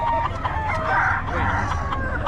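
A Sweater gamefowl rooster crows once, a loud, close, drawn-out call lasting about two seconds over a background of low murmuring.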